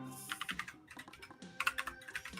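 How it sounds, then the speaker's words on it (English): Fingers type quickly on a clicky mechanical computer keyboard, a close, crisp burst of rapid clacks in uneven rhythm with no voices. "I'm sure you guys hear my keyboard all the time when I'm typing."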